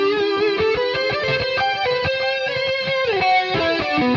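Electric guitar through a Headrush Prime air delay preset: a steady run of distorted, sustained notes and chords with a trailing echo, loud and close, with no voices.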